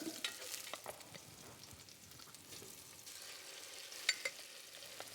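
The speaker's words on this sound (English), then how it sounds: "And the beans. And fry that all up." Beans fry with chilies and garlic, sizzling quietly in a hot pan while a utensil stirs them, with occasional scraping clicks against the pan; no one speaks.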